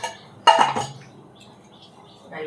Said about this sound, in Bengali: কড়াই বসিয়ে দিলাম।